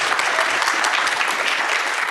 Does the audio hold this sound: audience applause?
yes